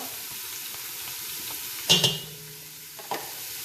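Carrots added to a hot pot of Russian meatball soup fry and sizzle softly, with a scraping stir and a couple of clinks from a utensil against the pot.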